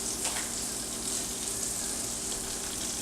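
One tablespoon of butter melting in a pan on the stove while cooking a peppercorn-crusted rib-eye steak meal, giving a steady, moderately loud hissing sizzle with no talking.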